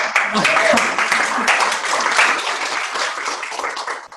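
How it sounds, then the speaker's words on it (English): A roomful of people stands and claps for a group being introduced, a loud, dense burst of applause that swells early and then tapers slightly, with a few voices mixed in. "Reverse standing ovation. They stand and they clap."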